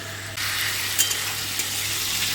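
Mushrooms with garlic paste frying in a pan, a loud continuous sizzle that jumps up sharply after a moment, with a few light scraping clicks from stirring.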